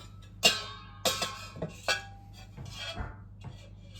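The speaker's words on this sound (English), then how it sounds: "You can whisk." A whisk clacks and scrapes against a bowl as batter is mixed, giving a few sharp, separate metallic taps followed by softer rubbing strokes, close by and fairly quiet, with no talking.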